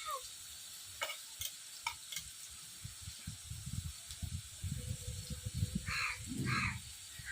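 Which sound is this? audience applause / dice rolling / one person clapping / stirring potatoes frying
stirring potatoes frying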